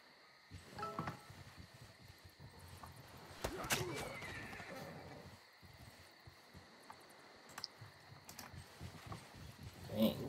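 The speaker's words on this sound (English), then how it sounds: "Dang, the horse archer didn't know what hit him." Horse whinnies and hoofbeat clip-clops from a horse archer unit in the strategy video game Civilization 6, sounding alongside game effects with someone talking at times.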